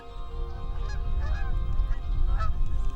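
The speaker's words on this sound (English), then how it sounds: "the Canada geese are on the move, announcing with their noisy calls that winter is on the way" Canada geese honking across the rainy tidewater marshes of Maryland's Blackwater National Wildlife Refuge in late fall, a scattered chorus of calls over a steady low rumble of wind and rain.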